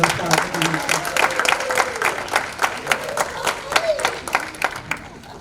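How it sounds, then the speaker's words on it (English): Applause from an audience at a scholarship event for a city committee member named Paulino, with a crowd clapping steadily under some murmured talk and a few cheers. "Yeah, give him a round of applause."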